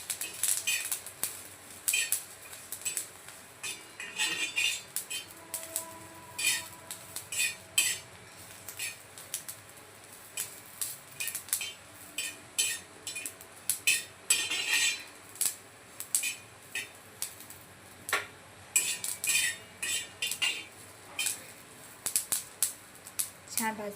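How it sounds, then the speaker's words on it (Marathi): Coconut, sesame and poppy seeds dry-roast in a pan with garlic and ginger, stirred briskly: a close, irregular run of metallic clinks and scrapes from a spoon against the pan over a quiet kitchen background. "खोबरा, तीळ आणि खसखस ॲड करून छान असं याला भाजून घेऊया"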